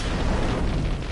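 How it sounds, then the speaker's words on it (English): Firework blast in the video game Generation Zero, a loud, dense rumbling explosion that fills the short moment with continuous booming noise and no talk. "If I throw a firework at him."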